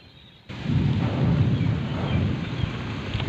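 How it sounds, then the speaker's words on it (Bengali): A heavy rainstorm, the year's first Kalbaishakhi storm, bursts in suddenly with loud, dense roaring rain and thunder that stays steady and close, with no voices. "বৃষ্টি নেমেছে, খুব জোরে বৃষ্টি হচ্ছে"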